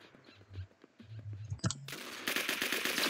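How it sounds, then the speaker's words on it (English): Video game gunfire in bursts: a few scattered shots, then a loud, dense rapid-fire stretch that keeps going to the end, with no one talking. "I don't know why I just shot at that person"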